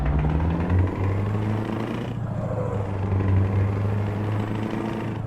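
Scania V8 truck in Euro Truck Simulator 2, its exhaust and idle heard as a steady, deep engine rumble that holds throughout with slight variations in tone and no talking.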